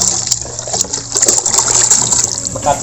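Water is splashed and poured over a window-type air conditioner while it is being cleaned, a loud continuous gushing and spattering close to the microphone.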